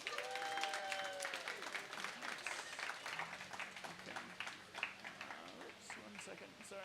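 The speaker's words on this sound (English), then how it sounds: "Everyone give a round of applause to Liz Hyde." A crowd at a talk applauds, a steady wash of clapping with a few cheers, fairly quiet and distant, while a voice speaks over it.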